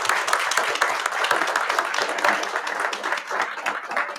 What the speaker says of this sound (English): Can we give them a round of applause here?